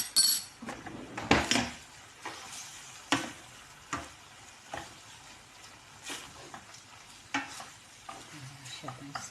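Chicken with cream is stirred in a frying pan: a steady low sizzle sits under repeated scraping and clinking strokes of a utensil against the pan, close and fairly quiet.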